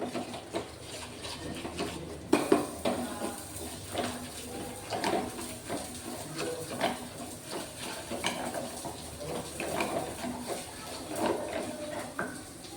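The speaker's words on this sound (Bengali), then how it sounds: "আমি এটাকে আরও একটু ফেটিয়ে নেবো ভালো করে।" Idli batter with semolina being beaten in a bowl in a home kitchen, a steady stream of soft scraping and tapping strokes with a few sharper knocks against the bowl, close and fairly quiet.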